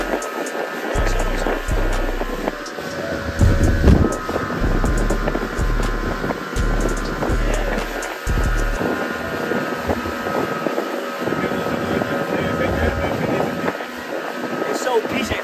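A steady motorboat engine drone with wind buffeting and water rushing past, loud and close, with bursts of low rumble early on and faint voices mixed in.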